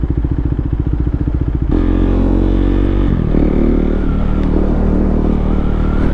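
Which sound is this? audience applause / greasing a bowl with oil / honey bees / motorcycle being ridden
motorcycle being ridden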